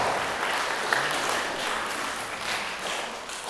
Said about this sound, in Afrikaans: gee net vir ons eerste Christene 'n groot hande klap